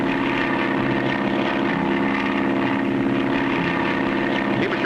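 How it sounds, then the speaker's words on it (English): A propeller plane drones steadily in flight in a 1959 Clutch Cargo cartoon, its engine hum loud and continuous with layered tonal harmonics and no pauses. "Our plane is much faster"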